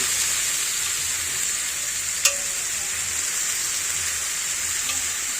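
Cabbage, capsicum and mixed vegetables stir-fried with garlic, ginger, tomato and onion for Maharashtrian-style veg noodles, a steady close sizzle and hiss throughout with one brief sharp clink of a utensil partway through, no talking.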